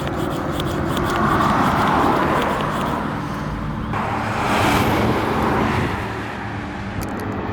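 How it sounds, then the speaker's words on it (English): Highway traffic at about 120 km/h rushes past nearby in a continuous roar, with swelling whooshes as individual vehicles go by on a hot day. "traffic whizzing by me at 120 kilometers an hour"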